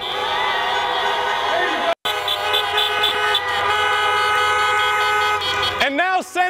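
Car horns honk continuously from many vehicles at an outdoor political drive-in rally in Georgia, a loud sustained chorus of overlapping toots with a brief gap and a few separate blasts near the end, with crowd noise mixed in.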